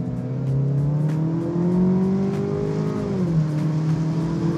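Chevrolet Camaro accelerating, its engine note climbing steadily through the rev range before dropping at a gear change and pulling again, loud and close with no talking.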